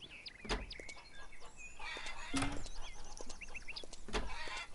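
Chickens cluck and squawk in a farming video game, several short bursts of fowl calls spread across the stretch over a low ambient background.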